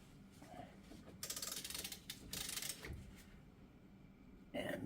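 Ratcheting tool cranked while removing a front axle part on a Jeep Wrangler, giving bursts of close, dense clicking mechanical ratchet noise with short pauses between strokes.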